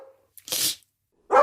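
A pet dog gives two short, sharp barks or yelps with a pause between them, close and loud with silence around them.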